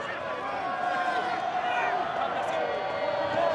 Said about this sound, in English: Crowd still in voice